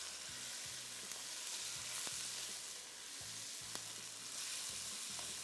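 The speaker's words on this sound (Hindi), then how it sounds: "तेज़ आंच पे इसको थोड़ा सा फ्राई करना है।" Boneless chicken with ginger and garlic frying over high heat in a pot, a quiet, even sizzle broken by several scraping stir strokes and a few light clinks, close with no voices.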